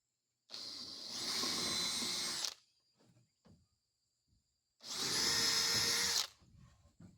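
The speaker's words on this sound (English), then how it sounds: "I can drill me some pre-holes, pre-drill it" A power drill bores pilot holes into a rough sawmill lumber board for a cattle feeder, running in two long bursts of about two seconds each, close and loud, with a quiet pause between them.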